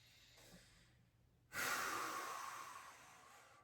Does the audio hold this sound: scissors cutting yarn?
no